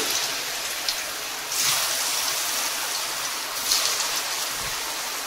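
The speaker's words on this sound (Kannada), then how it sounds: "ಮಾಡಿಟ್ಟಿರುವಂತ ಒಂದೊಂದು ಉಂಡೆನ ಎಣ್ಣೆಗೆ ಹಾಕ್ತಾ ಹೋಗ್ತೇನೆ" Potato snack balls go into hot oil one by one, producing a steady frothy hiss that swells sharply as each new batch drops in.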